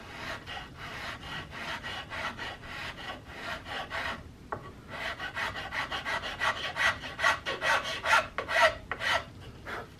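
A wooden CVA Hawken rifle stock is cut away by hand in quick, rhythmic rasping strokes, each a short scrape, with a brief pause midway before the strokes resume and grow a little louder.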